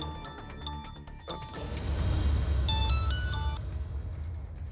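An electronic phone ringtone plays a bright melodic beeping pattern, repeating twice, over a low background hum.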